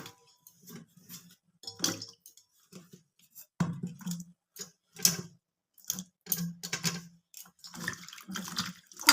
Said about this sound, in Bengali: এবার পরিষ্কার জলে ধুয়ে নিতে হবে।